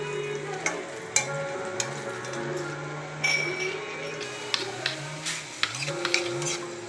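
Adobo snails (kuhol) sizzle in a pan while a utensil stirs and clinks against the metal, with steady frying noise and scattered scraping taps, partly under a voice talking.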